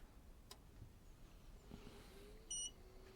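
A Geeetech Mizar S 3D printer gives a short, bright electronic beep as it powers on, a single brief tone standing out against a quiet room with low background hum.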